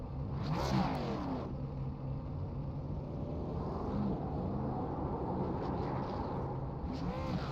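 A video game race car at Talladega Superspeedway holds a continuous, loud engine drone for several seconds, its pitch swinging up and down with revs, and no one talking over it.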